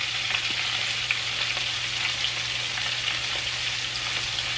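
Chicken frying in hot oil, without buttermilk, gives a steady, dense sizzle that crackles continuously throughout, close and fairly loud, with no voices.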